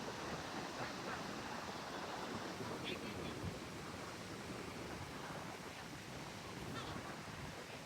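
Sea waves wash in close to a parked car on a Welsh coast, a steady, dense roar of surf that fills the whole stretch without pause.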